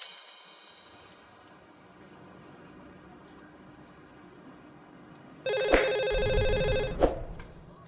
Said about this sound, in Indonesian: Telepon Rangga